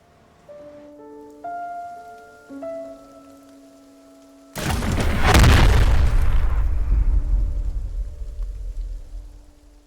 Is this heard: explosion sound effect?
yes